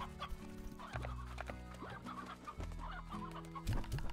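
Painted hens in the Slime Rancher video game: a dense cluster of close, repeated clucks and squawks from several birds over a low steady game music drone, with no talk.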